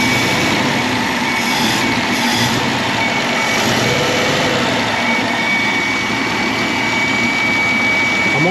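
A Holden Commodore engine running with its rocker cover off, a loud, steady close-up drone and clatter that holds fairly even throughout, without talking.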